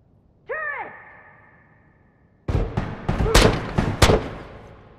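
A game turret opens fire after a short whooping siren tone, firing a rapid series of loud, echoing heavy shots that ring out close and hard, with a faint voice nearby.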